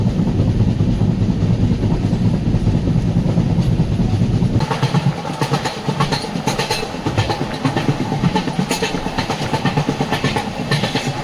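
The Mumbai–Mangaluru Superfast Express, train 12133, rumbles along the coastal Karnataka line, with loud low wheel roar giving way to brighter rhythmic clickety-clack on the rails, heard from inside the coach.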